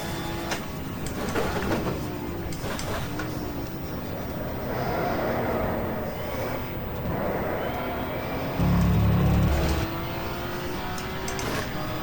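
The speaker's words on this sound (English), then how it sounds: "Wonderful sound of the 635 BMW engine." A 1980s BMW 635 touring car racing at Donington Park's 500 race, its engine droning steadily through the gears with rising pitch sweeps, heard continuously from onboard or trackside with a brief louder burst near the end.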